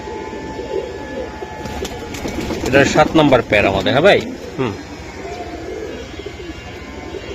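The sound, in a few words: pigeons cooing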